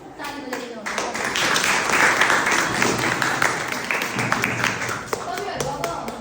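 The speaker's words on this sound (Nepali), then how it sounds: "सबैले एकचोटि सबै टिमको लागि ताली बजाइदिनु होला।" An audience at a school group presentation claps for the presenting teams, a dense burst of applause lasting about five seconds, with voices audible around it.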